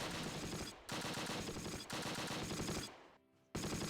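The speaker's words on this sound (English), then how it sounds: "Oh, these guys are shooting outside the building?" Bursts of gunfire outside a building in the Close Combat wartime strategy game, with dense rapid machine-gun volleys in several long stretches broken by brief pauses, loud and continuous, with no voices.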